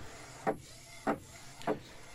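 A DTG 1400 garment printer, under repair for a recurring error, runs a print job: three evenly spaced mechanical sweeps, each a short rising whirr about 0.6 seconds apart, close by over a quiet room.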